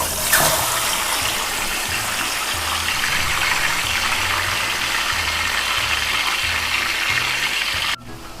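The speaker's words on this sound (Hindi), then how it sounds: "ये इसमें पानी डाल के थोड़ा सा अब मैं इसको ढक दूँगी" Water sizzles and gushes into a hot, oiled pan of whole stuffed chicken being cooked for murgh musallam, a loud, steady hiss that goes on throughout and cuts off sharply near the end.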